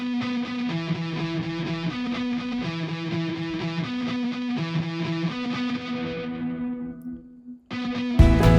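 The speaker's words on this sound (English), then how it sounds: "Guitar riff." Distorted electric guitar riff with chorus and echo effects, built up in a cinematic rock production, plays a steady, repeating pattern of chugging notes that thins out and fades before a loud, bright chord strikes at the end.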